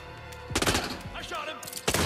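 Gunfire in the Hitman video game at a Scottish castle: a couple of sharp, loud shots with a short burst in between.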